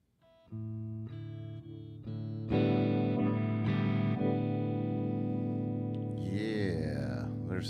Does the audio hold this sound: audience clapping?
no